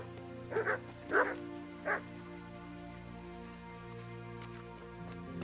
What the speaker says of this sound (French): Ça va les chiens?